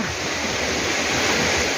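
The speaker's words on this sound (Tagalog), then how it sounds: "ang sarap ng lagastas ng tubig" Steady, dense roar of rushing water, loud and continuous with no breaks, like a nearby waterfall.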